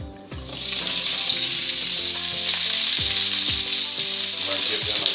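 Onions sautéing in a hot pan for a sausage dish, a loud, steady sizzle that runs the whole time, with a few knocks of utensil or pan underneath.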